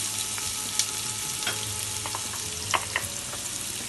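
Onions frying in olive oil in a hot pan give a dense, steady sizzle with scattered crackles and occasional stirring scrapes, close and without any voices.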